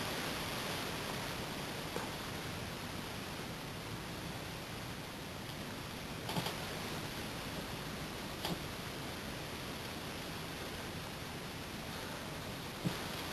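Steady broadband hiss from a small Mamod model steam engine's boiler as it builds pressure, continuous and fairly faint throughout, with a few light ticks and clicks scattered over it.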